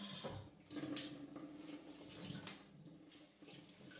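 Running water rinses a kitchen stovetop during cleaning, a steady close splashing flow with faint shifts as it hits the surface; no voices.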